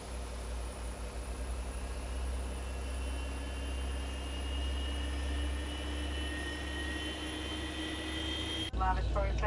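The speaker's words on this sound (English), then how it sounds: "now we're gonna turn the first engine on. You'll see this spool up" The first engine of a Boeing 737-800 starts from cold and dark and spools up, a steady rising turbine whine with a low drone filling the cockpit, followed by a sudden change near the end.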